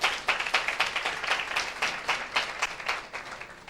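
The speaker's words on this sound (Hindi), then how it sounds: "क्या एक जोरदार ताली बजाएं परमेश्वर के लिए।" A church congregation gives a lively round of applause during a Hindi sermon. Many hands clap in quick, uneven bursts that swell and ebb steadily, fairly close and with no talk over it.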